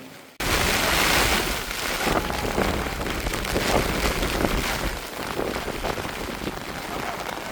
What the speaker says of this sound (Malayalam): നല്ല മഴ തുടങ്ങിയിട്ടുണ്ട്.